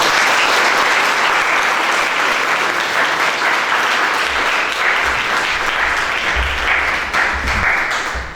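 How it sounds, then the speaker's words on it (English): A lecture-hall audience at a special lecture of an institute of South Asian studies applauds loudly and continuously for over eight seconds, a dense wash of many hands that tapers slightly at the end. "the loudness of the clap speaks for itself"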